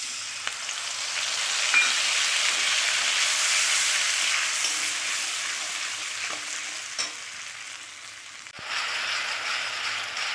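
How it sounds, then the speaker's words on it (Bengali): Wet spice paste sizzling and being stirred in hot oil in a pan for a Bengali ol and koi fish curry, a loud steady hiss with occasional scrapes and clicks of the spoon, no talking. "মশলা দেওয়ার পরে আমি 3 মিনিট এরকম করে কষিয়ে নিয়েছি"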